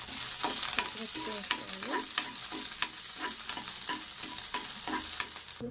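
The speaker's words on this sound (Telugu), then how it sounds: "ఇలా వెల్లుల్లిపాయలు వేయించుకోవాలండి." Garlic and finely chopped green chillies fry in oil in a pan. A soft continuous sizzle carries repeated stirring and scraping clicks at a fairly even pace, with no voices over it.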